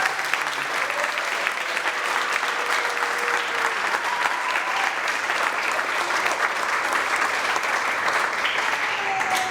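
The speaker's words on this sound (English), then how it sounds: "Let's hear a round of applause." Sustained round of applause from a graduation ceremony crowd honoring families and friends, dense and even clapping holding steady for the full length, fairly loud in a large hall.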